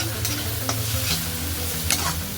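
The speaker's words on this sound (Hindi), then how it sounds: "इसको अच्छे से आप हल्का गुलाबी होने तक सॉटे कर लीजिए।" Onion masala sautéing in oil for Amritsari Pindi chole, a steady close sizzle of frying with occasional scrape and clink of a spoon stirring through it, no voices.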